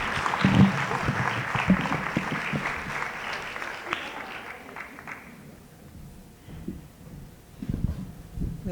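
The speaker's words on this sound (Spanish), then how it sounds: "por favor un fuerte aplauso para recibirla" Warm applause from a seated audience at a Latin American talk welcoming a speaker, dense and steady at first, then thinning and fading toward a few scattered claps near the end.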